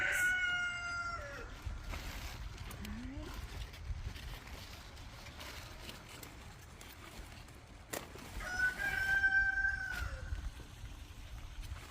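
A rooster crows twice at a distance, at the start and again near the end, over faint steady background noise and occasional soft clucks.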